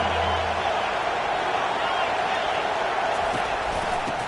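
Dense, constant stadium crowd noise from a college football video game involving Clemson, a loud unbroken roar on third and long with no distinct peaks.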